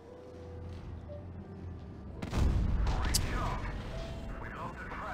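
A single deep, booming tank cannon blast in the game World of Tanks Blitz erupts midway over steady rumbling background noise, then rolls off into a lingering low roar.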